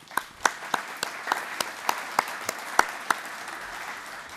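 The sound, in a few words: audience applause at annual general meeting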